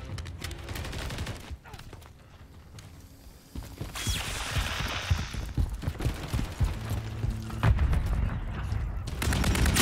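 Gunfire during a Modern Warfare 3 open beta multiplayer match, with bursts of automatic shots and scattered single cracks, some near and loud, others distant, mixed with game voice callouts.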